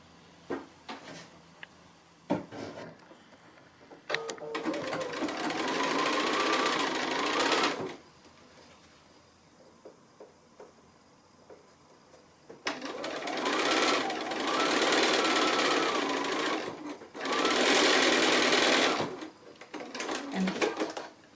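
A sewing machine stitching quilt pieces for a mini mystery quilt, running in several sustained close bursts of rapid mechanical whirring, with quiet pauses and small handling clicks between the runs.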